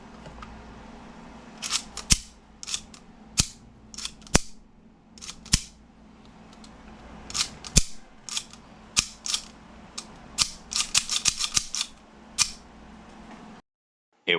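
A freshly built 5.1 Hi-Capa airsoft pistol, unlubricated, fires sharp snapping shots, single at first at irregular gaps, then quicker bursts toward the end, each crack crisp and close against a quiet background.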